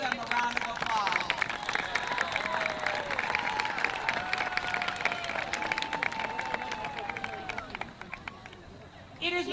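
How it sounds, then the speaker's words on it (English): Crowd applause at a marching band night stadium event, sustained clapping and cheering across the whole stretch with a public-address voice and band sounds mixed in beneath. "Please give them a round of applause."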